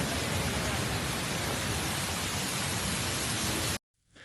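Heavy rain pours at flooded Barcelona El Prat airport as a dense, loud hiss of downpour that stays constant, then cuts off abruptly near the end.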